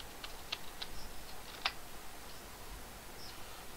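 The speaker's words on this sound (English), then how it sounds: "when I type the root and user and password" A computer keyboard clicks softly as a username and password are typed, a few scattered keystrokes with one sharper tap, faint against quiet room noise.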